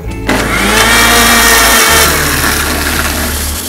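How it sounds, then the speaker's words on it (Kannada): Mixer grinder blending paneer masala to a fine paste, a loud steady motor whine with churning that dips briefly in pitch midway, then runs on continuously without any voices. "ಈಗ ಇದನ್ನು ನುಣ್ಣಗೆ ರುಬ್ಕೋಬೇಕು."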